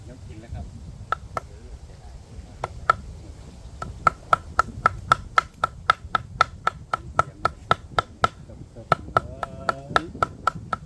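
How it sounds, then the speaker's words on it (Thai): Fish is chopped on a board with a cleaver in a run of sharp, evenly spaced knocks, close and crisp, with short pauses between bursts and background chatter underneath. "เสียงสับปลา"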